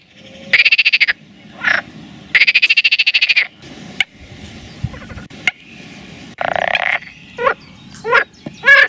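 Frogs calling with inflated vocal sacs, filmed from a low vantage point: loud, near, pulsing croak trains in repeated bursts, with shorter rasping calls and overlapping chorus members answering, no talk.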